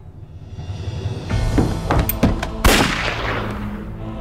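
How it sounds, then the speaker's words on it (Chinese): A gunshot in a TV spy drama scene, heard as a few sharp loud cracks around the middle of the clip over a busy background of music or ambience. "往自己脑袋开枪"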